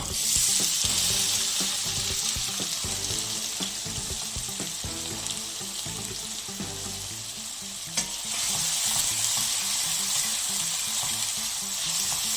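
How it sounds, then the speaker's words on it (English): Onions fry in a pan for palak paneer, a steady bright sizzle broken by scraping stirs, with a short clatter near the end before the hiss carries on, near and loud with no voices. "I'm going to cook the onion till it's little bit golden brown"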